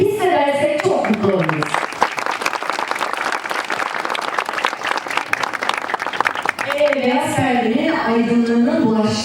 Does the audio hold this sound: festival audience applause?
yes